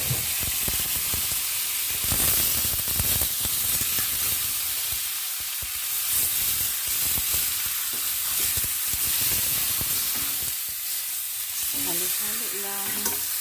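Chicken pieces sizzle loudly in a pan with tomatoes for Filipino chicken afritada, a dense continuous frying hiss with crackles and occasional stirring scrapes throughout.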